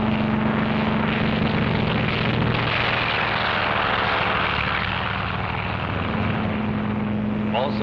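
Propeller aircraft take off from an aircraft carrier, a steady droning engine roar filling the scene with a constant buzzing tone, loud and continuous throughout.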